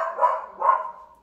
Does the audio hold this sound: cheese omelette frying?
no